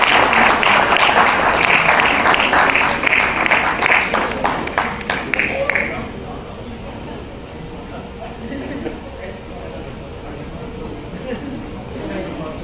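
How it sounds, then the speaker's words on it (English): Audience applause for a sponsor at a workshop, loud dense clapping for about six seconds that then fades out, leaving a low room murmur and faint voices. "And a big round of applause for Pepsi."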